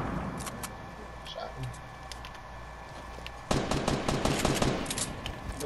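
Gunshots in the video game Fortnite: sparse distant pops early on, then a loud rapid string of shots erupting midway and continuing to the end, with players talking.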